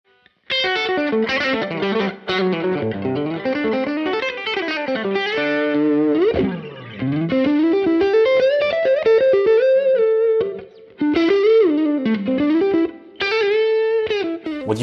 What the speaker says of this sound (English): What you just heard is the Nobels ODR Mini.